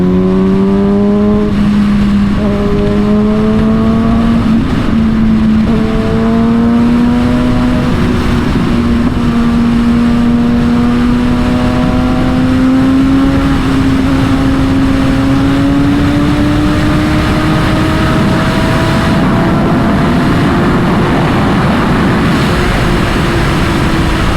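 A Kawasaki ZX-6R motorcycle ridden through traffic, its engine droning loud and close with repeated rising pitch sweeps through gear changes, steady wind rush underneath.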